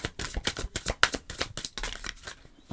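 A deck of oracle cards is shuffled by hand in quick repeated riffles and slaps, a close crisp rhythm of bursts that slows and fades toward the end.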